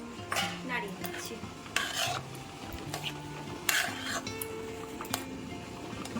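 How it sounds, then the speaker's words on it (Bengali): Gobindobhog rice simmering in milk in a pot, stirred with a spoon that scrapes and taps against the metal in irregular strokes over a soft bubbling background. "দিয়ে এবার আমি ভালো করে নাড়িয়ে দিচ্ছি"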